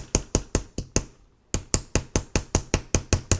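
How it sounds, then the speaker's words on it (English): Nylon hammer flattening jewelry wire on a steel bench block: a steady series of sharp, close taps, about four per second, with a brief pause partway through. "I'm going to first hammer it with my nylon hammer."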